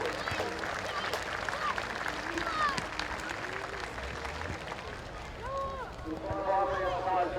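Audience applause at a school confraternity event, a broad steady wash of clapping from a crowd with voices and calls mixed in throughout, moderately loud and continuous.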